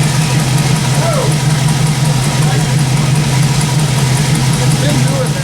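An LS-swapped Jeep Scrambler off-roader idles with a failing clutch throw bearing, a loud, constant drone with a steady low tone running throughout, with faint voices briefly in the background.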